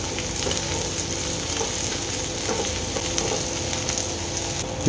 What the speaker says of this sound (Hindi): अब हम इसमें डालेंगे अदरक और लहसुन। तब चीज़ को अच्छी तरह फ्राई कर लेना है।